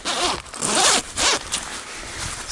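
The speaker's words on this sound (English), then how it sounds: "there's the inner zip there, and that will toggle around that, and that locks the zip in place from the inside." The zip on a Hilleberg Nammatj 3GT tent is pulled in several quick close-up strokes, each a bright rasping burst with short pauses between them, and no talking.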